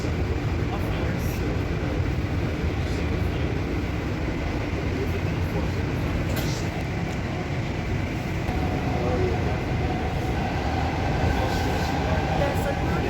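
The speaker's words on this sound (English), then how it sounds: "There's another train." A train rumbling past at a station, seen from aboard another train, a steady loud rolling roar with rail clatter throughout and faint voices underneath.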